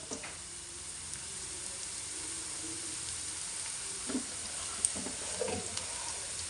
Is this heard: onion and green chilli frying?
yes